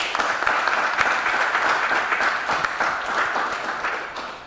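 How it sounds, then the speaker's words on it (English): A World Cancer Day panel audience applauds, a steady wash of clapping that holds for several seconds and then gradually thins out; no talk over it. "Let us give her a round of applause for that."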